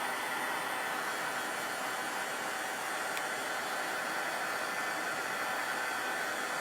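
A heat gun warms embossing paste, blowing a constant loud hiss of hot air that runs unbroken from start to finish.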